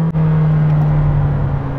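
A Lamborghini Temerario cruising on a former F1 circuit in recharge mode on a cool-down lap, giving a steady, loud, even engine drone with a low hum throughout, close up and without talk.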